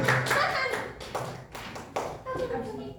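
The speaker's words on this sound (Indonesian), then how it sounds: "Beri tepuk tangan untuk kelompok 2." Classroom applause for student group 2 after a presentation, a short burst of clapping from a small class, close and fairly loud, with irregular sharp hand claps and children's voices mixed in.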